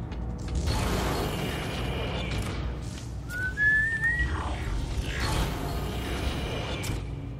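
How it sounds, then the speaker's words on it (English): Large elevator machinery in the Dead Space 3 video game gives a steady low mechanical rumble with creaks and a rising metallic whine partway through, heard alone without voices. "Oh, wait, this is an elevator."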